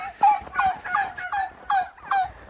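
Farm birds, including a goose and a rooster, call out nearby in a series of loud, repeated gobbling and honking bursts with short gaps between them, no talking over it.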